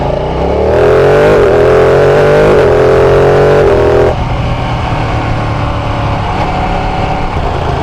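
A Ducati 959 Panigale sport bike revs hard under acceleration, its engine note climbing loudly before a quick shifter snaps through a gear change and the roar continues at a lower pitch, close and alone.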